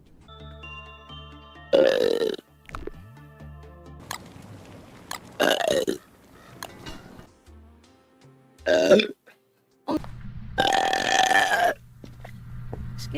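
A girl lets out a series of loud, drawn-out burps, several in close succession with short pauses between, some long and rumbling, over a quiet background with faint electronic tones.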